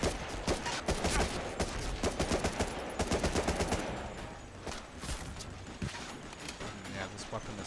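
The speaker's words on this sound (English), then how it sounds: "Somebody's getting fucked up by a machine gun." Rapid machine gun bursts rattle through an Xbox war shooter, dense and loud for the first few seconds and then thinning to scattered shots, with a voice talking over the gunfire.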